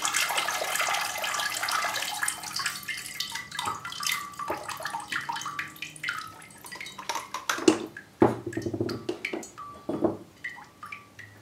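Water splashes and trickles into a plant pot, starting as a loud continuous pour, then thinning into scattered drips and gurgles as the soil soaks it up.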